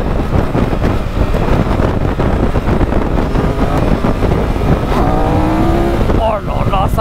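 A 2022 Triumph Tiger 1200 maxi-trail motorcycle pulls hard under acceleration, its engine note climbing through a gear change against steady, loud wind rush, with a voice talking over much of it.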